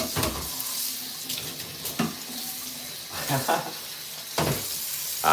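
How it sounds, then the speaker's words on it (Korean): A kitchen tap runs at a sink while dishes are washed, a steady hiss of water broken by several sharp clinks and clatters from the dishes. "설거지 미리 하고."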